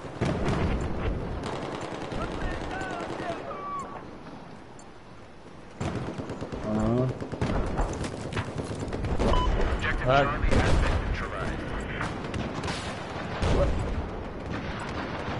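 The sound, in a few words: gunshots from a single-fire gun in a PS4 shooter video game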